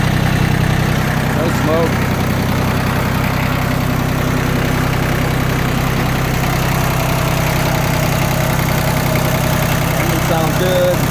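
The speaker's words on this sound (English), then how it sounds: "Engine sounds good." A used Yanmar F16D compact tractor diesel engine idling close by, a steady low rumble with a regular knocking pulse throughout, with someone speaking briefly over it.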